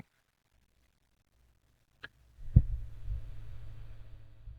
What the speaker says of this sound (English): Stethoscope meditation is a unique approach that involves listening to one's heartbeat.